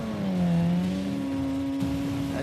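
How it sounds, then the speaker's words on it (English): A drag race car engine revving at an event in Saudi Arabia during the Dakar 2024 period, a loud sustained tonal roar that dips and climbs, heard up close with no talk. "an atmosphere surrounded by the sound of engines"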